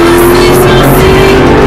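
A Ford Mustang S197 with a 5.0 engine, built as a track car, accelerates hard on back roads. The engine drones loud and close, a steady, strained pull with no pauses.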